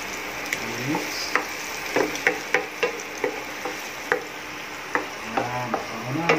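Pork and onion frying in a pan, a steady sizzle under repeated clinks and scrapes of a utensil stirring, close, with brief murmured voices.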